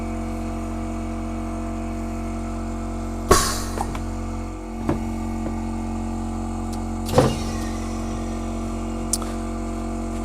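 A shoe press pushes boot heel stacks down on a Tricker's Stow boot getting a Commando sole. A steady machine hum runs throughout, broken by two sharp clunks and a few lighter clicks.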